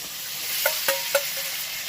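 Fried eggplant is stirred into a simmering tomato and hilsa fish curry, a soft frying hiss with a few brief metallic clinks and scrapes of a spoon against the pan, close up.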